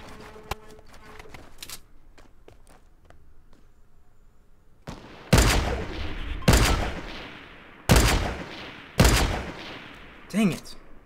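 Gunfire in the mobile battle royale game Fortnite Mobile: after quieter game sounds, four loud, booming shots ring out about a second apart, each with a decaying tail, followed by a shorter burst.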